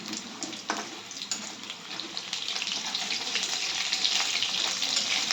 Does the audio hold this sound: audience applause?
no